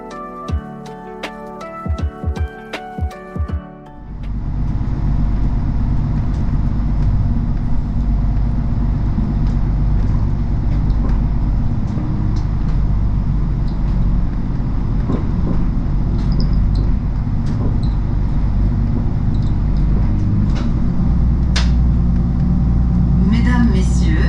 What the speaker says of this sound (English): And now we can listen to the departure here in Fécamp.